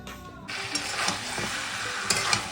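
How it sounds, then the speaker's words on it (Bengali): Chicken pieces cook in a pan, a close, steady frying sizzle broken by scraping stirs and a few sharp clinks of the spoon against the pan, with no voices. "এই যে চিকেন কষা হচ্ছে মানে কষা না ঝোল করবে"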